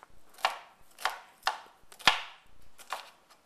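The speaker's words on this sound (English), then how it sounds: "cut my celery in small pieces like this" Knife chopping celery into small pieces on a cutting board for a celery and leek soup, with about six crisp, close strikes at an uneven steady rhythm and no talking.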